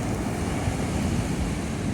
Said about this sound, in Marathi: उलटी सुलटी लाटा येत ती